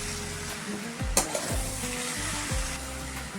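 Romaine lettuce greens sizzle and fry in a pan as a spoon stirs them, with a few short scraping strokes over a constant close hiss.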